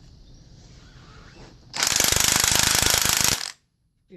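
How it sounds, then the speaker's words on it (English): Cordless impact wrench working on the strut of a 2000 Mazda 626, a single loud burst of rapid hammering about two seconds long that cuts off sharply, after a quiet low background hum. "I have a cordless impact,"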